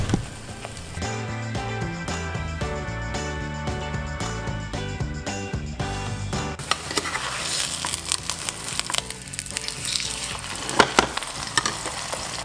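Food frying in plenty of hot oil, bubbling hard with a loud, broad sizzle that takes over in the second half after a stretch dominated by steady music.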